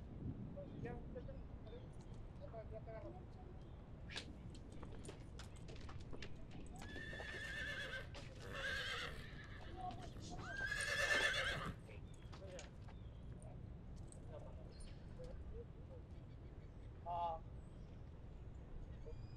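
A horse being roped for the first time in a Texas corral whinnies loudly a couple of times over steady outdoor noise and hoof clatter, with people talking faintly in the background.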